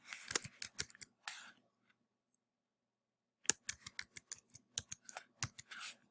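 Crisp bursts of computer keyboard typing, two quick clusters of clacking keystrokes separated by a few seconds of silence, close and fairly quiet.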